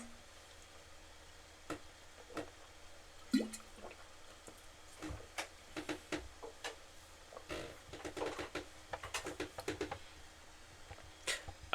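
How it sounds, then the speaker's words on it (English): Water drips in a sparse, irregular patter of faint clicks and plinks against a quiet background, a sound effect in the visual novel game Katawa Shoujo. "Water."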